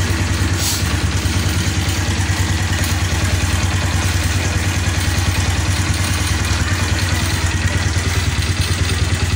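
A fuel-injected Honda motorcycle (Blade, Supra 125 or Revo FI) idles steadily with its battery disconnected, a close, continuous mid-pitched engine putter with light clatter and no pauses.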